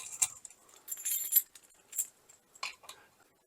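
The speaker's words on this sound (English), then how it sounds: "And we can hook our keys." Keys jangle and clink in short metallic bursts while being hung on hooks of a router-carved wooden key holder plaque for an RV, several separate jingles with quiet gaps.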